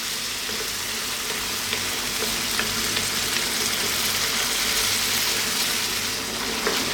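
Mediterranean lamb and tomato stew fries over medium heat in a pot, a loud, continuous dense sizzle with faint occasional stirring clicks throughout.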